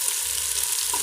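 Onions sautéing in hot oil with mustard seeds and cumin, a steady close sizzle with a faint stir of the pan near the end, with no talking.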